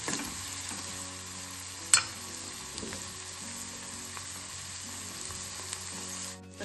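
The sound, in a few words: onion sautéing in a pan until reddish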